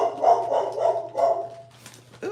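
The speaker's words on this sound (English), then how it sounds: "that's my big doggy barking" A large dog barks several times in quick succession, loud and fairly close, over a steady low indoor hum, with the barks fading out near the end.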